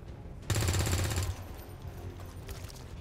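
A rapid burst of automatic gunfire rings out in a turn-based alien-invasion tactics game, a loud rattling volley lasting under a second, then fading into lower rumbling echoes.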